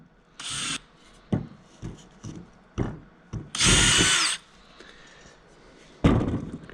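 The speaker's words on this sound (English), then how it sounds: "drill the holes out with the bigger bit." A power drill with a larger bit bores holes through a wooden deck chair board in short bursts, with one long whining run in the middle and a final spurt, separated by knocks and handling of the wood.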